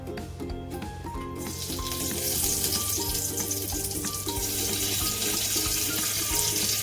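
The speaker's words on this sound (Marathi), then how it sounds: "आता गॅस थोडा बारीक करते आणि कढीपत्ता टाकते फोडणीला." Curry leaves crackle and sizzle as they drop into hot tempering oil over low heat for a Maharashtrian radish amti, a steady frying hiss that swells after the first second and holds, with faint clinks.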